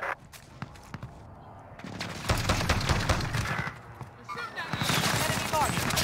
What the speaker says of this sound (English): I'm putting an airstrike right on the shot.